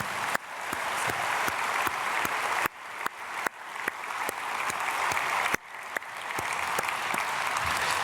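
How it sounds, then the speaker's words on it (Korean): A large church congregation applauds steadily at an early-morning prayer service, dense clapping filling the room at a loud, even level for several seconds. "박수로 축복하겠습니다."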